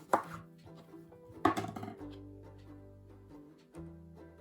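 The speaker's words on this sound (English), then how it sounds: "Cut the lemon in half." Knife cutting a soft lemon in half on a cutting board, two firm chopping thuds about a second apart followed by a quieter tap, close and clear with no talking.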